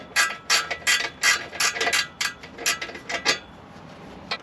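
A ratchet tightens the exhaust nuts and bolts on a Land Rover Discovery 2 (L318) during a new exhaust fit, with crisp close clicking strokes in a steady run of short bursts, heard alone.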